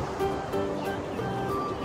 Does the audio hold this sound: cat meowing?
no